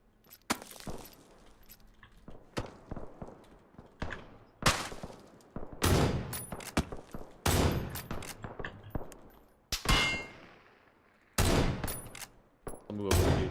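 Winchester Model 1894 rifle shots ring out in a PUBG match, several sharp, loud reports at irregular intervals with quieter in-game noises and distant firing between, while players talk in places.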